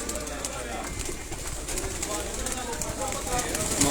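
Pigeons coo on a new rooftop at Head Marala, the flock of a local keeper, with soft calls buried in steady broadband outdoor noise and what may be faint voices nearby.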